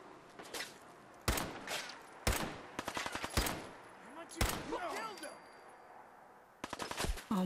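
Gunfire in the video game Fallout 4: sharp, loud shots in irregular clusters and rapid bursts, some single cracks, with scattered game effects between them and a brief voice underneath.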